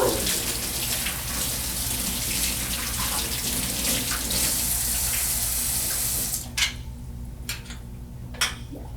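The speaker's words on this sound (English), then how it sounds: "Rinse the agent off thoroughly," Film processor rollers rinsed under running water: a steady, loud rush of tap water pours continuously, then cuts off, leaving a few clicks and handling knocks.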